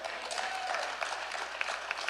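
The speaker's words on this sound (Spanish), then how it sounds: "Denle un aplauso más fuerte" A church congregation claps during a sermon, a dense, steady wash of applause from many hands that holds at an even level throughout, with no voices clearly standing out.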